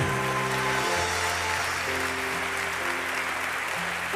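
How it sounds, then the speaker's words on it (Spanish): Church congregation applauding during a Spanish-language worship service, a dense steady wash of clapping mixed with sustained organ or keyboard chords, loud and continuous throughout. "dele ese aplauso al Dios Todopoderoso"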